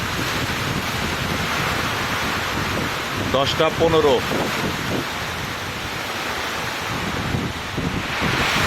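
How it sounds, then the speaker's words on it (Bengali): Heavy torrential morning rain pours in a steady, dense roar that fills the whole stretch, close and loud, with a brief voice speaking over it partway through. "প্রচণ্ড বৃষ্টি, মুষলধারে বৃষ্টি হচ্ছে।"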